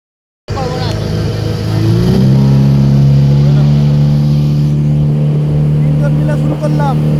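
A ten-seat tourist motorboat at a Shillong sightseeing spot revs its engine, a loud steady drone that rises in pitch after a couple of seconds and holds close and continuous to the end.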